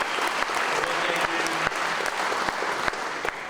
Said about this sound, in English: And they deserve a round of applause